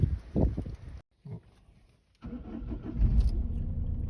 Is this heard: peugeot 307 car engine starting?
yes